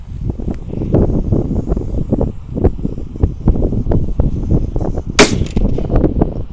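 A sunflower firecracker crackles and pops rapidly inside a kettle, a dense run of sharp bursts ending in one louder bang near the end.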